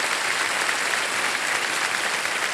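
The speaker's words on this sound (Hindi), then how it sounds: "इन दो महारथियों का एक बार फिर हम अभिनंदन करते हैं जोरदार तालियों के साथ" A studio audience at a TV quiz show gives loud, thick applause for guests, an unbroken wash of many hands clapping at full strength from start to finish.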